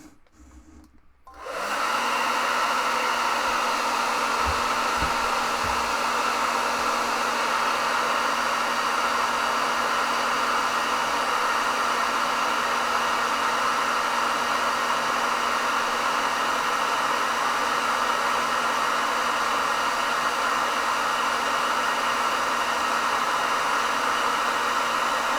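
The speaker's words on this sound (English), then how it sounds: "we'll hit it with the hairdryer." Hair dryer blowing on a piece of artwork, switched on after a short quiet start and then running as a loud, steady, unbroken whoosh for over twenty seconds with no talking.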